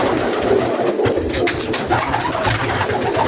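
Racing pigeons at a Baku pigeon club in Lökbatan coo steadily and close, their soft low calls layered with fluttering and light background noise, no voices over them.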